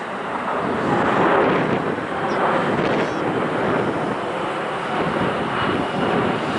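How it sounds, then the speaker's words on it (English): Airplane with its landing gear down flying overhead near an airport, a loud, broad roar that swells and holds, mixed with wind buffeting on the microphone. "here's the airplane, look"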